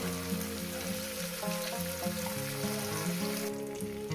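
Fish frying in a pan with a steady, continuous sizzle, close and moderately loud, over a sustained tonal hum from the kitchen throughout.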